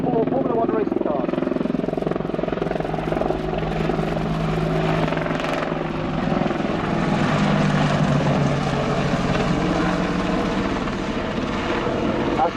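A Westland WAH-64D Longbow Apache AH1 attack helicopter flies a display at RIAT 2019 airshow, a loud continuous rotor and twin-turbine roar that holds steady throughout and passes close by, with no talk over it.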